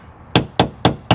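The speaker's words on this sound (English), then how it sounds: "I got a little punch here, my hammer," A hammer taps a metal punch against the body panel of a 2014 Dodge Charger near a bullet hole, four sharp, evenly spaced metallic strikes, close and loud.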